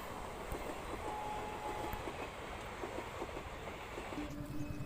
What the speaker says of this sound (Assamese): এইটো ট্ৰেইন আহি আছে, গেটটো নমাই দিল